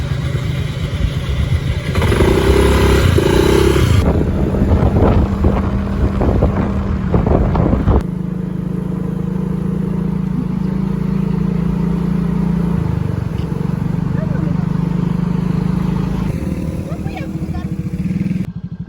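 A motorcycle rides along a badly damaged, bumpy road, its engine droning loudly and continuously with wind buffeting the microphone and jolts over the rough surface, while people talk over it.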